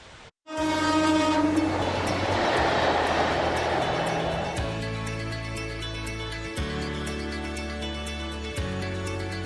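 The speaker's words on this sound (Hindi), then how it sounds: "ऊंचे ऊंचे पहाड़ों के बीच रफ्तार से बातें करती ये ट्रेन" A Vande Bharat Express train on the Katra–Srinagar line through high mountains sounds a loud, sustained horn, then keeps rolling past with a steady heavy rumble and rhythmic clicks of wheels on rail joints.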